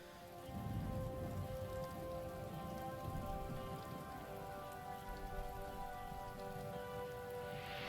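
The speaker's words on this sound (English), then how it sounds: "how you can hear the rain and the thunder" Rain patters steadily in a song's production, a soft continuous hiss of drops layered under sustained musical tones, with no clear thunder standing out.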